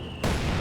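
A mortar shell strikes in Company of Heroes 2, a sudden loud explosive burst cutting in after a quiet lead-in and rolling on as a dense, booming rumble to the end.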